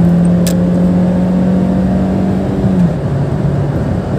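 Honda Brio 1.3 manual car held in third gear on a toll road, its engine drone steady and loud from inside the cabin, a low hum that rises and then eases slightly near the end, with no talk.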